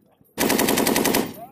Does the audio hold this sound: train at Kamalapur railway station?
no